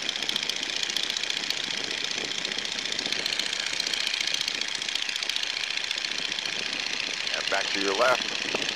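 A steady, droning small-aircraft engine at reduced power during a power-off stall fills the cabin at constant loudness, with a voice speaking briefly near the end.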